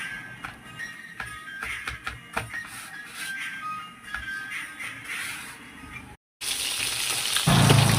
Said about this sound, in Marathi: चांगले फ्राय करून घ्यायचे दोन्ही साईडनं.